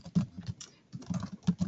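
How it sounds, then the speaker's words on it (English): Someone is typing on a computer keyboard during an online webinar, with quick irregular bursts of close key clicks broken by a short pause and no voice over them. "I'm typing into the chat box the email address"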